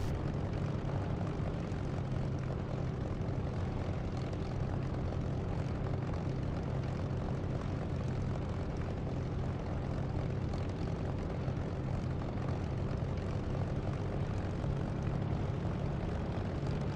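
Propeller aircraft engine in a DCS or War Thunder flight simulator, a steady, loud low drone that holds evenly for the whole stretch with no talk over it.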